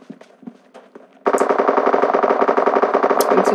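Rapid automatic gunfire in an FPS game custom-room match bursts in loudly after faint earlier shots and sustains as a dense, continuous rattle to the end.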